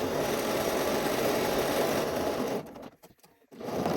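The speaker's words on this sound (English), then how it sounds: "we are just going to top stitch at 1/4 of an inch all the way around those 3 sides" A sewing machine top stitches a quarter-inch seam around three sides of a shirt, running loud and steady for over two seconds before pausing briefly, then whirring again.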